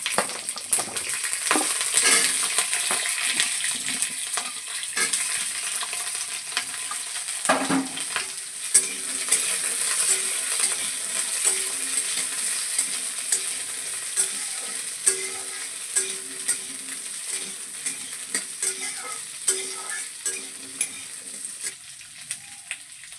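Chopped vegetables frying in a pan, a continuous close sizzle with intermittent scraping and clattering as they are stirred, heard alone without talk.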